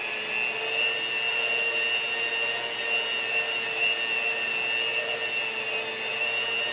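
Electric hand mixer running steadily at low speed while mixing Viennese cookie dough of whipped butter and egg whites, a continuous even motor whir close by with no talking.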